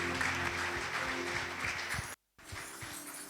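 A church congregation applauding, a dense, steady clatter of many hands clapping at close range, broken by a brief cut of silence before the clapping resumes.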